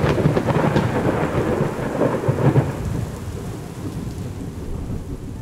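Heavy thunderstorm with rumbling thunder rolling over dense, steady rain, loud and continuous throughout with no voices.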